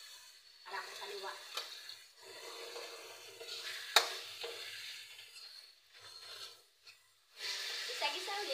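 Food being sautéed in a pan for a home dinner dish, a faint sizzle with intermittent scraping and stirring strokes and one sharp clink, quiet and close with short pauses.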